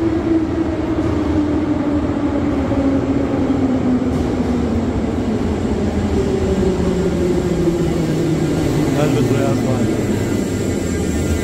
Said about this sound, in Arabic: خلوكم مع هاي المترو قدامنا.